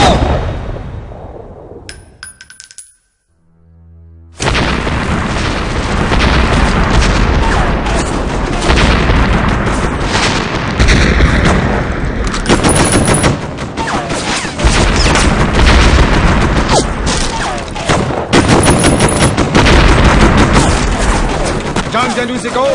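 Action-film gunfire and explosions in a Hindi-dubbed Jackie Chan movie: loud, dense bursts of shots, booms and metallic clangs running almost continuously after a brief lull, with voices shouting in the mix.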